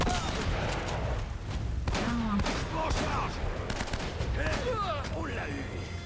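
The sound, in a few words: gunfire in the Uncharted video game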